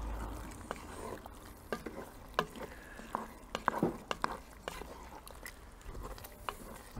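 Minced meat stew with cream being stirred in a Dutch oven, with a spoon scraping and clacking against the pot in scattered, uneven strokes over soft simmering, close and moderately quiet.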